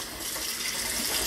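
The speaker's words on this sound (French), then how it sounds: "Rincer avec le jet de douche." A shower jet rinsing cross-stitch fabric: loud, close, steady spray of gushing water hitting cloth, continuous throughout with no talk.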